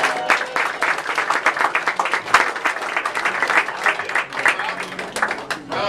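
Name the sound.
audience applause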